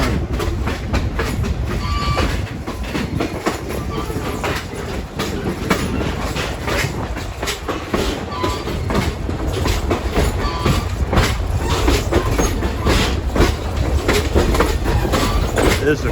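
AAPRCO special passenger train passing on the former Rutland Railroad at Rockingham, Vermont, loud and close, with continuous rumbling wheels, steady clickety-clack over rail joints and occasional faint wheel squeal.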